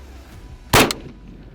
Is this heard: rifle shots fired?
yes